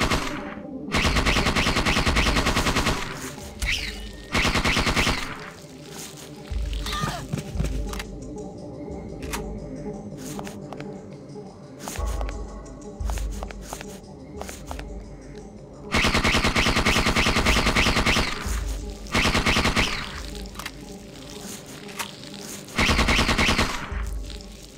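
Automatic gunfire from a high-capacity gun in the video game Parasite Eve 2, with long sustained loud bursts broken by shorter pauses and other game sounds in between, no speech over it.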